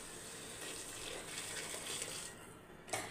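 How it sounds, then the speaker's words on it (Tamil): Water gushes from a tap or vessel into a cooking pot of chicken biryani gravy, a steady close pouring rush lasting a few seconds and ending with a small splash. "இப்போ வந்து தண்ணியை சேர்த்துக்கலாம்."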